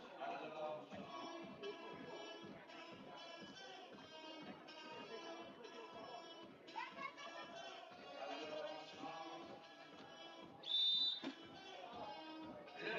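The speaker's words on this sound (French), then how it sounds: "A marché, hein, qui est sifflé contre Michael Kruger" A referee's whistle blown to call travelling in a beach handball match, a single sharp shrill blast near the end, rising over steady crowd noise and commentary from announcers.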